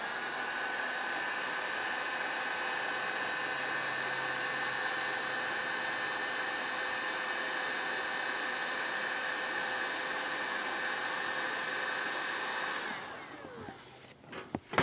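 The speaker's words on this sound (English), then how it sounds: "I'm gonna show you right now with the heat gun" A heat gun melts assembly grease into transmission fluid during a Ford C4 automatic transmission build, blowing with a steady, loud whooshing hiss that runs unbroken before cutting off near the end, followed by a few faint clicks.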